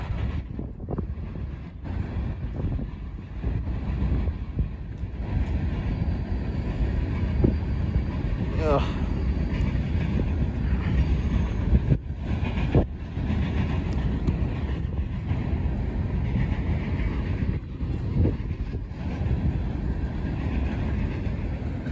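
A train rumbles by on Lake Avenue in Blasdell, New York, with a low, sustained roar and rattling, mixed with gusty wind buffeting the microphone throughout.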